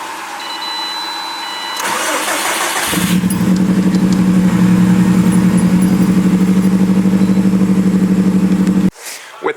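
A Subaru STI cranks briefly, catches and settles into a loud, steady, throbbing idle close by, then cuts off abruptly near the end.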